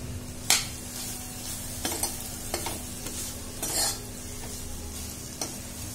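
A spoon stirs cluster beans mixed with peanut powder in a pan, scraping and knocking in a few distinct strokes over a soft, steady sizzle, close up with no voices.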